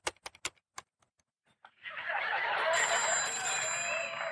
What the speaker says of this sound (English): they hear the phone ring